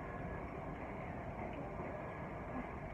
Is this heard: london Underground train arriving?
yes